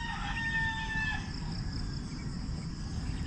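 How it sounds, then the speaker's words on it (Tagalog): Chickens and birds call outdoors in a quiet countryside setting, with a rooster-like crow and thin chirps over a steady low rumble of background noise. "Ibon at manukla ang maririnig nyo"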